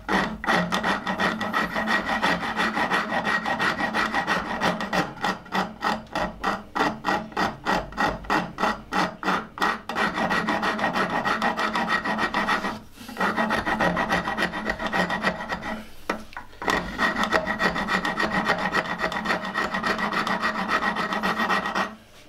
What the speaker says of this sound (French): la forme que je suis en train de couper est en forme de S